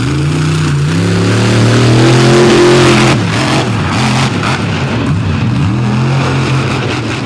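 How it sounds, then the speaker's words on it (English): A 1982 Chevy monster truck at an outlaw monster truck drag event in Canfield, Ohio, its engine loud and close, revving and holding a high droning pitch before dropping and surging again, with no talking. "he wheels this awesome 82 Chevy around the track here in"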